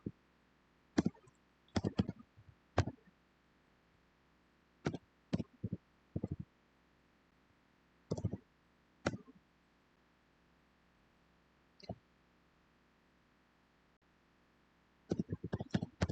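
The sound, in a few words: typing on a keyboard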